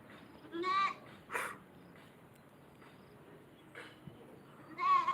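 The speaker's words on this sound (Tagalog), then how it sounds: "Dakalay kambing mo." A goat bleats near and clear in short wavering calls, one at the start and another at the end, with quieter rustling and faint voices in between.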